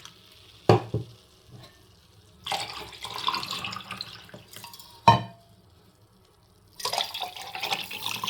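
Honey is stirred into a healthy juice drink in several separate bouts of swishing liquid, close and fairly quiet, with a few sharp knocks between them.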